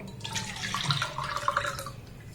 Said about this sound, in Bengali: এবার এই দুধটাকে আমি এই পাত্রের মধ্যে ঢেলে দেব